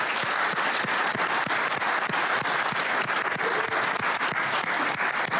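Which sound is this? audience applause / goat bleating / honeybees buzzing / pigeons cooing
audience applause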